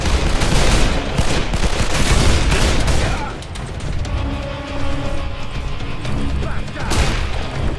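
Loud, close automatic gunfire rattles in a Call of Juarez: The Cartel shootout at the port of Los Angeles, heavy continuous bursts with booming impacts, easing slightly before another volley.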